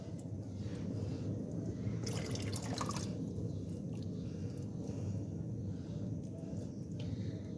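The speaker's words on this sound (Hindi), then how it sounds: "थोड़ा थोड़ा करके डालते जाएंगे और चम्मच हिलाते जाएंगे" Cornflour slurry is poured gradually into simmering gravy while it is stirred, giving a low, steady bubbling and liquid churn throughout and a brief brighter splashing pour near the middle, with no talking.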